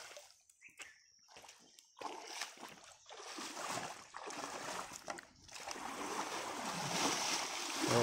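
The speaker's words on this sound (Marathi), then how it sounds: "बघा असा गदळायचं, मग ना फेस होतच राहतं." Water in a shallow Konkan stream or pool being churned and stirred by hand to drive fish upward during traditional fishing, a continuous rough splashing and sloshing that builds and stays fairly loud, with brief pauses early on.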